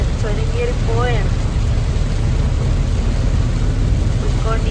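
Heavy rain drums on a car climbing a mountain pass, a dense steady wash mixed with low engine and road rumble, and a person speaks briefly over it.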